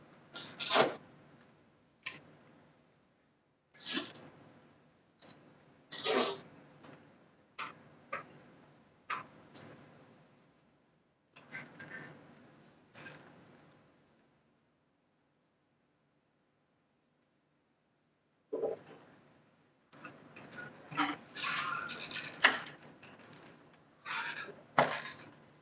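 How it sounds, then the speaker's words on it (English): Intermittent scratchy rubbing and tearing bursts of Velcro rubbing on straps, close by, coming in short clusters with a long quiet gap in the middle. "it's just the Velcro rubbing on those straps"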